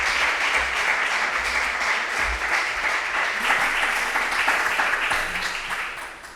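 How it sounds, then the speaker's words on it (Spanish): An audience at a flamenco and poetry workshop in Huelva applauds warmly and steadily, a dense sustained clapping that tapers off toward the end. "yo os voy a pedir un fuerte aplauso para ellos antes de comenzar"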